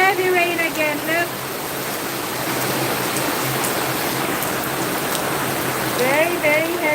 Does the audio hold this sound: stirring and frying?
no